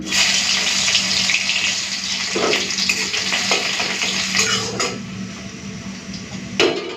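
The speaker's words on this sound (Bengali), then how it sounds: "তেল গরম হয়ে গেছে দিয়ে দিচ্ছি থেঁতো করা রসুন" Mustard oil sizzles steadily in a pan with a bright hissing crackle as crushed garlic fries, broken by a few soft clinks and scrapes of a utensil.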